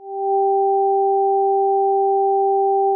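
Two steady pure tones sound together through headphones as part of an auditory illusion, loud, clean and unchanging after a short fade-in, with no other sounds.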